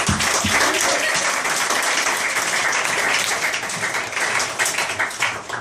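Jazz club audience in London applauds the band, a sustained, even roar of many hands clapping that holds steady with slight swells near the end.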